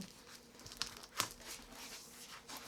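A taped book haul package is torn open at close range, faint crinkling with a couple of sharp tearing rips, and no one talks.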